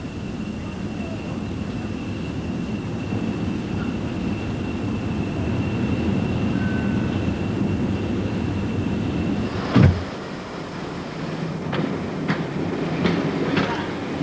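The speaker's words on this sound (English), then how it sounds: "And on Barry Smith's journey, Exeter Central was the place for finding yet another train." A train rumbles at Exeter Central station, a steady low rolling drone with a faint whine, then a sharp brake squeal or clank and a few metallic knocks near the end, with no talking.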